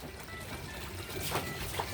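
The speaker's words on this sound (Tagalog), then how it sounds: "Bago ka makapuno ng tubig." Water being poured to fill a container, a faint, steady trickling and splashing that grows slightly louder toward the end, with no talking.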